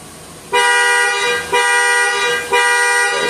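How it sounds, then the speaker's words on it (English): A Nissan Pathfinder's panic alarm, triggered from the key fob, blasts its car horn in three loud, sustained honks about a second apart, each starting abruptly, close by and with no talking. "The next thing is the panic alarm."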